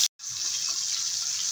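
Boal fish spatters in hot oil with a loud, steady hiss that starts after a brief gap and continues close and unbroken.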